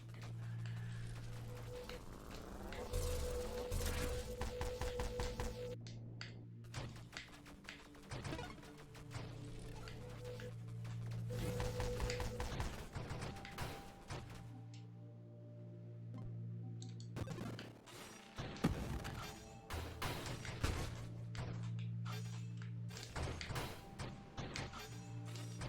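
Blade weapon firing in the Nova Drift space shooter, a fast run of sharp clacking, ratchet-like mechanical hits layered over a steady tonal game soundtrack, busy and continuous throughout.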